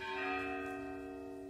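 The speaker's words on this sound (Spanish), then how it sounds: "Vamos a dejar que toquen las campanas." A church bell rings out, one sustained tone humming and slowly fading.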